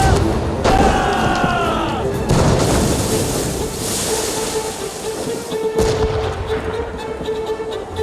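Ship cannons boom and shots strike in naval combat in the video game Assassin's Creed Rogue. Heavy blasts, crashes and creaking fill the scene while crew voices shout over the din.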